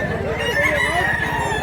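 A rooster crows clearly and close at a rural market in Mantalungon, Cebu, one sustained crow rising over a busy low background murmur.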